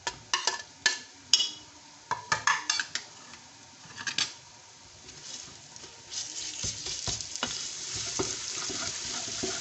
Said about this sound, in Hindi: ये प्याज जो है ये गोल्डन ब्राउन हो गए हैं। अब मैं इसमें अदरक और लहसुन डाल रही हूँ।